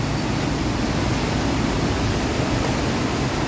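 Stream water roaring after a sudden heavy rain, a steady broadband rush that stays loud and unbroken throughout, close by and with no voices over it.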